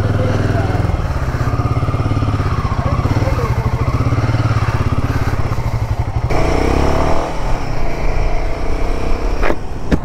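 A Royal Enfield Himalayan 450 motorcycle sets off from home, its engine thrumming steadily and close, with a gear change and road clatter partway through, while a rider talks over it.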